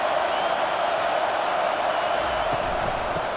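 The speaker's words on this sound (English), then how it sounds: "Decibels rising as the crowd gets behind this defense on third down." Stadium crowd noise from EA Sports College Football 25, Michigan Wolverines vs. Florida State, swelling behind the defense on third down: a dense, steady roar of many voices at high volume, with no clear breaks.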